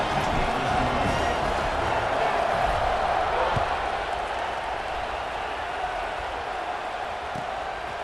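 Stadium crowd at a Wisconsin vs Penn State college football kickoff, a dense continuous roar of cheering that stays loud and steady throughout, with a faint announcer voice underneath.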